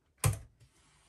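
A single burst of computer keyboard typing during a phone software upgrade on a Samsung Galaxy Note10+ 5G, a quick cluster of clicks near the mic followed by quiet room tone.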